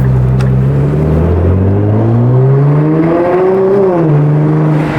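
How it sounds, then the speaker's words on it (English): A Nissan GT-R R35 with aftermarket intakes revs while driving, its engine note rising steadily then easing off, loud and close inside the car, with no talking. "I totally forgot how well this car sounds"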